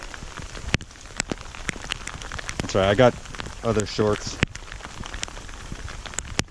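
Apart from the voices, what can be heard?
rain falling outdoors during a mountain hike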